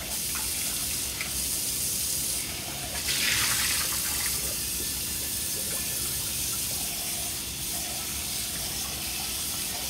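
Hot water gushes steadily from a kitchen tap, a close, continuous hissing rush that stays level for about ten seconds, with a brief surge of splashing near the three-second mark.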